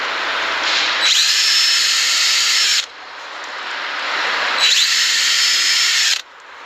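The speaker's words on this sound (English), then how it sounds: "so I'm gonna pre-drill some holes in this first" A power drill pre-drills screw holes in wood in two sustained, loud whining bursts of about two seconds each, close up, with a short quieter pause between them and no talking.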